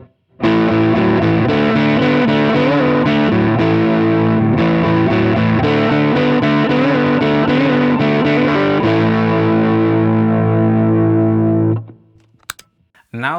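Electric guitar played through a Walrus Audio ACS1 amp simulator with an added pedal, giving a loud, driven, saturated tone. Sustained chords and riffs run without a break, then a held chord decays into a few faint clicks.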